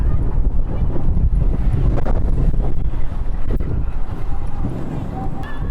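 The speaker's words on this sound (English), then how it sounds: "this wind's strong" Strong wind buffets the microphone outdoors, giving a loud, continuous low rumble and roar that swamps the scene for the whole stretch.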